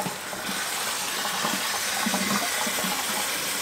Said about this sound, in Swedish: Så därför häller jag i vatten.